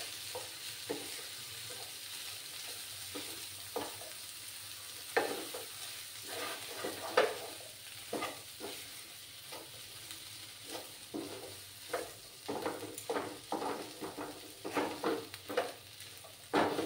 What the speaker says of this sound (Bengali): একটু সময় ভাজা ভাজা করে নিতে হবে।